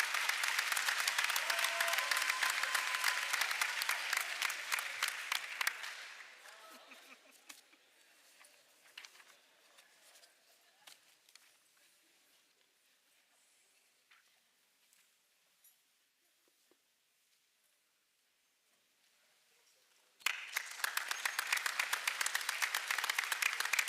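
A school board meeting audience breaks into loud, sustained applause, which fades into a long near-silent stretch with only scattered faint sounds before a second strong burst of clapping.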